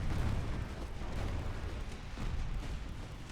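Naval gunfire in the warship battle game Ultimate Admiral Dreadnoughts: a continuous low rumbling barrage of booms and distant shell bursts, dense and rolling without clear separation, fairly faint and with no voices over it.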